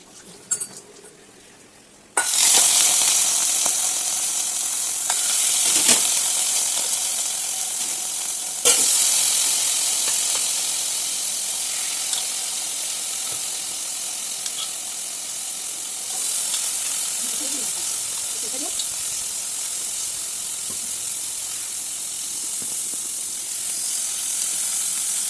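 Boiled pork frying in a hot wok as its fat renders out, a loud continuous sizzle with occasional stirring scrapes and spikes of spatter, close up with no one speaking.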